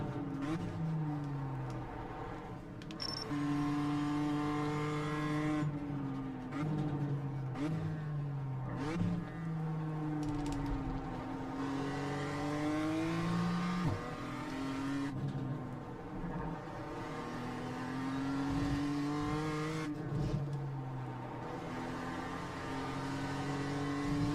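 A BMW M2 lapping Okayama race track, heard from inside: the engine drones loudly and continuously, its pitch rising and falling through throttle changes and gearshifts, with no one talking.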